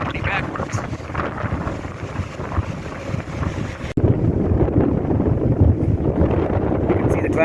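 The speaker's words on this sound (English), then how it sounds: "with this wind, it feels really, really cold" Strong, cold wind on a hike up San Vicente volcano in El Salvador, roaring and buffeting loudly against the microphone without pause, growing heavier partway through.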